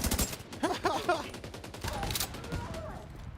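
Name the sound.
M60 machine gun firing in a video game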